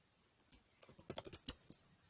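Typing on a computer keyboard, a quiet run of about a dozen crisp key clicks that bunch into a quick burst near the middle, then thin out, with no talking.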